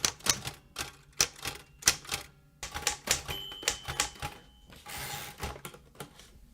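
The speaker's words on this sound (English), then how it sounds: "This is the old Royal typewriter that you saw Ben Urich use in the Daredevil story" An old Royal manual typewriter clacks in uneven bursts of sharp, close keystrokes, with short pauses, a brief ding and a rasping carriage movement partway through.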